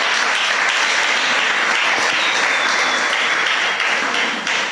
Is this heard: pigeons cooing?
no